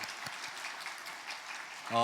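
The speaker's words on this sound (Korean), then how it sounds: "박수로 축복하겠습니다." Steady applause from a church congregation during a Sunday service, moderately distant, with a voice starting to speak at the very end.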